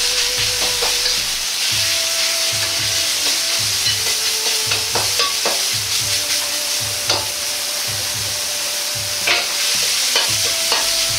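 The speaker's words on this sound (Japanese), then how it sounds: "ひき肉を炒めます。" Minced meat sizzles and crackles steadily in an oiled hot pan, with a spatula scraping and stirring in a repeating rhythm close by.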